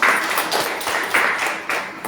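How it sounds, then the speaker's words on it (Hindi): An indoor audience at a business event claps in rhythmic bursts, a steady run of hand claps with roughly even pulses, fairly close and without speech over it. "उनके सम्मान में भी जोरदार तालियां चाहूंगी"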